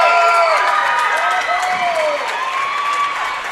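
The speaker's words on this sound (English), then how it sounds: "Maddie Spinner gets a big round of applause and a hug from the coach as she goes out of the game" A crowd at a girls' high school basketball game, Nashville vs Smithton, gives loud sustained applause and cheering as a player leaves the court, with voices and shouts mixed into the steady roar.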